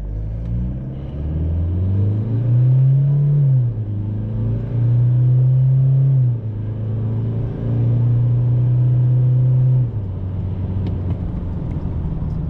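Toyota Hilux Rugged X four-cylinder diesel pulling away from a launch, loud engine drone rising in pitch through several gears, each upshift marked by a brief dip before the pitch climbs again.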